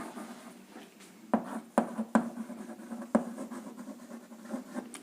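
Chalk or marker strokes on a board during a Class 10 chemistry lesson on acids, bases and salts, with several sharp scratchy taps and scraping strokes spaced irregularly over a quiet room.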